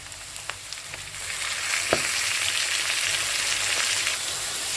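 Potatoes fry in a pan with a coriander, chilli, garlic and cumin chutney, sizzling close and loud and steady throughout, with a few faint clinks from stirring.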